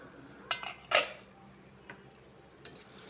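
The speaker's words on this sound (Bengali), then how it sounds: "এক মিনিট মতন ঢেকে দিব ঢাকনাটা খুলে দেখবো" A lid is lifted off a pot of cooking chicken, giving a few sharp metallic clinks and a brief rattle close by, followed by quieter scattered taps over a faint background.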